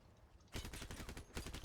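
Rapid gunfire in the vehicle combat game Crossout, with a dense burst of shots striking a mounted gun, moderately loud with no talk.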